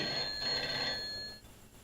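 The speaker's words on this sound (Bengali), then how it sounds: "আর ফোন আসার সময় পেল না দূর এই টেলিফোনটা" A telephone bell rings with a bright, trilling tone for about a second, then cuts off, leaving quiet room noise.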